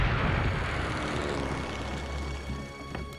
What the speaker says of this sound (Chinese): 敌机轰炸危险，请委员长赶快离开。